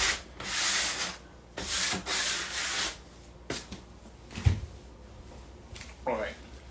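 Hand sanding with 220 grit sandpaper between paint coats, several rhythmic rubbing strokes in short bursts, close and fairly soft, with a knock and a few quieter handling sounds after.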